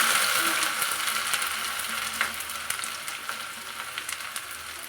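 Steady sizzling of ginger frying in hot oil, a dense crackling hiss with occasional pops, close by and continuous with no voices.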